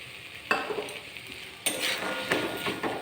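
Green peas being stirred and fried in spices in a pan for an aloo matar curry, with a sharp sizzle bursting in at the half-second mark and again louder partway through, plus scraping stirs, no talk.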